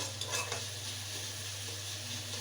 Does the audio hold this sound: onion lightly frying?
yes